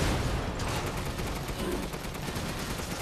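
Rapid gunfire from the video game Resident Evil Village, a dense continuous burst of shots filling the whole stretch at steady loudness, with no voices.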